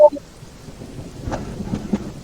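Rain and thunder play in a video game, with a soft patter under low rumbles and a few brief, faint thunder cracks toward the end, after a short sharp sound at the start.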